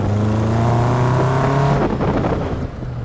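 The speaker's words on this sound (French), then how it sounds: "Le pot d'échappement qui fait un beau petit bruit quand même." Caterham Seven sports car exhaust on the road, a loud, close engine note climbing in pitch under acceleration, then a gear change and a rougher burbling rumble as it settles.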